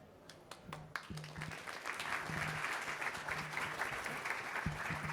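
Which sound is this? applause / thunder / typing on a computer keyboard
applause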